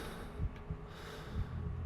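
Heartbeat thuds with heavy, gasping breaths from the horror video game Call of Cthulhu, a few low pulses spaced irregularly under a continuous breathy hiss, fairly quiet and steady.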